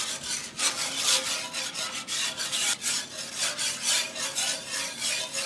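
A whisk scraping briskly across a pan of milk gravy, loosening browned bits left from cooked meat for Salisbury steak, giving rhythmic rasping strokes roughly twice a second, close and clear with no voices.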